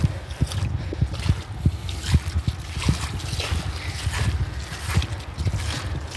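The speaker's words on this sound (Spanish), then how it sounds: "está muy fuerte el agua" Heavy irrigation water pours and splashes across a strawberry field in California, a dense, continuous spattering rush with irregular thumps and gurgles, close and loud throughout.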